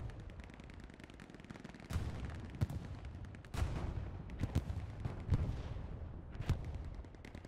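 Artillery barrages and gunfire in an online war game tournament match, with steady distant firing and several sharp loud blasts at irregular intervals.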